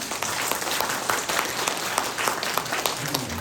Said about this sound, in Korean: 우리 박수 한번 쳐야 되겠죠?